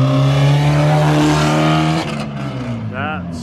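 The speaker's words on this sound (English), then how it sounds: "this is just a test to test the engine and the transmission." A car engine drones loudly at a steady pitch, then drops and shifts as it changes gear; a voice speaks briefly near the end.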